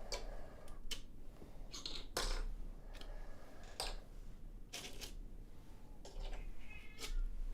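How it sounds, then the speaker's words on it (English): A house cat meows repeatedly nearby during a weekend hobby session, with several sharp, fairly loud calls over steady background noise and faint clicking. "That's my other cat making a noise."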